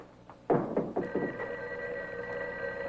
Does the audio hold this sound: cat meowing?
no